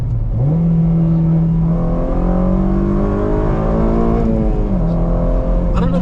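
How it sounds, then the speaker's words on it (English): An 8th-generation Honda Civic Si tuned with Hondata revs up as VTEC engages. The engine tone climbs and holds as a loud, steady drone, drops briefly, then rises again. The sound is close and continuous. "did you guys hear VTEC kick in?"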